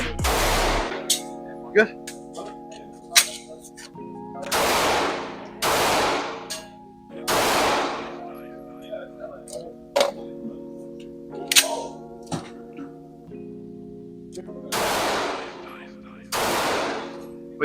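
Loud gunshots during shooting drills at a range, a series of sharp reports in irregular clusters with pauses between strings, with people talking briefly in between.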